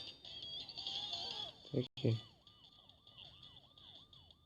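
A synthetic police car siren in the video game Zombie Tsunami wails in quick rising-falling sweeps after a burst of game sounds and brief thumps, fairly quiet overall.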